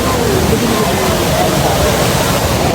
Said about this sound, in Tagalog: Ayan na yung falls oh.